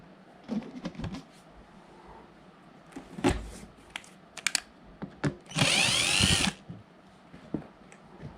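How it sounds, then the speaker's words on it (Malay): A power screwdriver whirs in a short burst while screws are undone on a Philips HD2139 pressure cooker during repair, surrounded by small clicks, taps and handling noises close by. "So buka skru ni."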